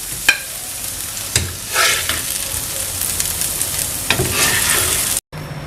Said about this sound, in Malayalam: പഴം ഇട്ട് കൊടുത്തൊന്ന് നമുക്ക് നന്നായിട്ടൊന്ന് വറുത്തെടുക്കണം